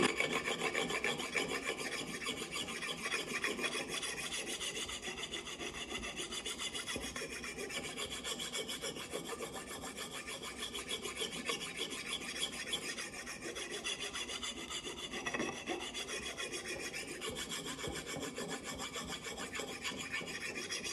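A Gransfors carpenter's axe is sharpened on the coarse red side of a stone: steady, continuous gritty rasping and rubbing strokes, close and fairly loud, with no talk.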